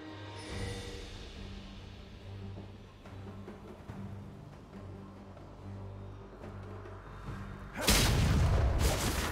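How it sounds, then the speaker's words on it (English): In the League of Legends game, an inhibitor is destroyed and a heavy boom hits near the end, bursting in broadband after a stretch of low, steady game ambience and tones. "Blue team's inhibitor has been destroyed"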